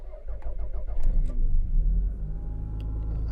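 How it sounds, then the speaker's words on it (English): Toyota Cressida engine turning over and settling into a steady low rumbling idle, close and fairly loud, with no talking. "Let's try that with the engine running."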